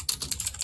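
Fingers type on a computer keyboard, a quick run of about six crisp, close-up key clicks in under a second.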